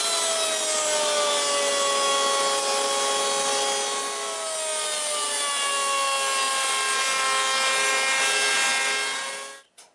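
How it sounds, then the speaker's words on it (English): A router cutting a profile into the wooden top and bottom pieces of a clock, a loud steady high-pitched whine held for nearly ten seconds before spinning down at the end. "Now I just have to profile them on the router."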